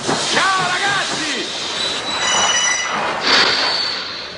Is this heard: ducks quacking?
no